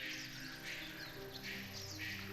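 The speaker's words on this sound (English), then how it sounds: "I hear a lot of birds." Birds chirp and twitter in the ambient scenery of Swordhaven: Iron Conspiracy, a soft continuous chorus of calls layered over a faint background hum.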